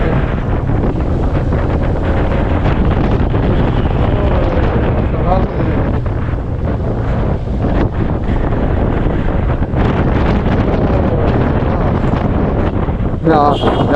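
Strong wind roars continuously over a moving vehicle on a road through Cavite, a loud, steady buffeting rush that fills the whole clip with brief gust surges.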